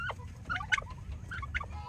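Jersey Buff turkey tom gobbling, several quick warbling bursts close by over a low steady background rumble, with no one talking.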